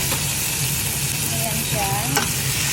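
A can of tomatoes going into a browned garbanzo soup base in a hot pot, giving a loud, continuous frying hiss with faint stirring, and no voices.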